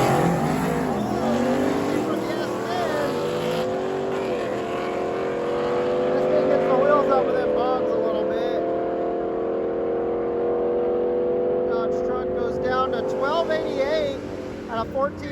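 Drag racing trucks making a pass at a drag-and-drive event, with a loud sustained engine drone that climbs and holds for the full run, with announcer talk over it.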